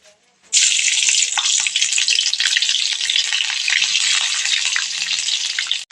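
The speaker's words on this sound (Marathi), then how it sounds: "तेल गरम झाले त्यामध्ये आपण ही मिरची टाकून घेऊ" Green chillies drop into hot oil in a pan and a loud, steady sizzle bursts up immediately and keeps crackling close by for several seconds, with no talking over it.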